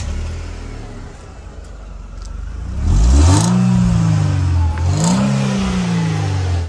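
A 1990s roadster engine, either a Mercedes SLK or BMW Z3, idles and then revs hard twice, each loud rise in pitch falling back, close up with no talk.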